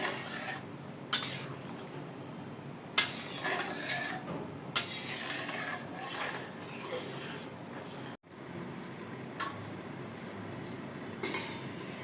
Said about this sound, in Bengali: এবার ভালো করে আমি নেড়ে চেড়ে মিশিয়ে দেবো চাল ডালগুলো জলের সাথে